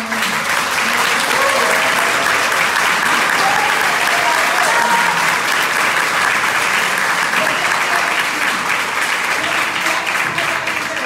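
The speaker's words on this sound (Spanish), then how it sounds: "Vamos a dar un aplauso." Audience at a business training event for new entrepreneurs gives loud, sustained applause, dense even clapping from many people with a few voices faintly underneath, holding steady throughout.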